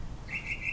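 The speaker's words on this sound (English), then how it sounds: "Sorry about all these birds, guys." A bird gives a single thin, high chirp outdoors, brief and moderately clear over a low rumble of background noise.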